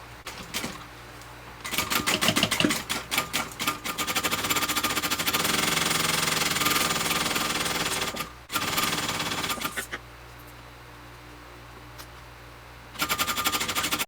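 A sewing machine bastes zipper tape to a backpack lining, running in long, rapid, rattling stitching bursts broken by short pauses, loud and close with no talk.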